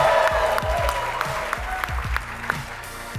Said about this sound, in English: Make some noise so everybody can hear that you're here.